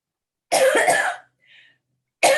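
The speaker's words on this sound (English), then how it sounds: "I'm going to cough." A single loud, close cough of about three-quarters of a second, followed by a faint short sound and then the start of another burst.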